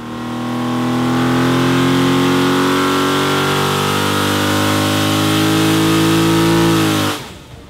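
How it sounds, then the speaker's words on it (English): A 519 cubic inch V12 built from an LS1 design roars steadily at high revs on a dyno, loud and sustained for about seven seconds before cutting off abruptly and dying away. "the guys effectively created a 519 cubic inch V12 version of an LS1 engine, and proved this prototype concept on the dyno"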